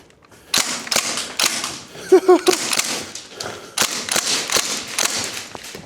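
A Northeast Airsoft Mini UZI gas blowback rifle fires in quick clustered bursts of sharp snapping reports with mechanical clacks, loud and close, with brief pauses between strings of shots.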